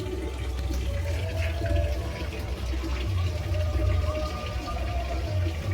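Water runs steadily from a tap into a sink as cut pointed gourds are rinsed and cleaned, a continuous close splashing flow with no pauses.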